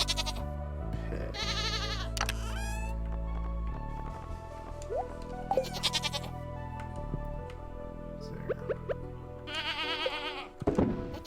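Sheep bleat in the farming video game Stardew Valley, with several short, nasal bleats over a steady background music track, sounding close and clear.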